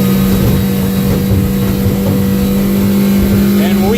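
A Hewescraft 180 boat's outboard motor runs at full throttle, a loud steady engine drone with a strong, sustained hum close by and no break.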